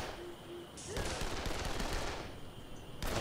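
Gunfire in the video game Dead Island Definitive Edition, bursts of rapid shots loud in the foreground, with a brief pause partway through before firing resumes.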